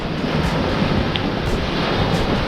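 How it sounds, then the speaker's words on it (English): Loud, steady wind roars across the microphone on a small island, a dense continuous rush with surf-like noise underneath and no talking. "It's quite windy."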